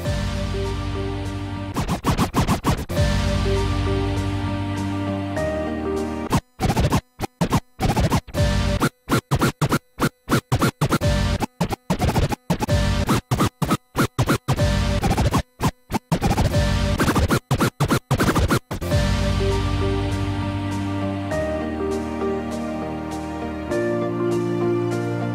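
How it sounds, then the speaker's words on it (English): Automated scratch effects from a Pioneer DDJ-SB3 DJ controller's scratch pad, loud choppy stuttering bursts cutting in and out over a music track, with steady music before and after the scratched section. "The scratch pad provides 8 different automated scratch modulations that are activated"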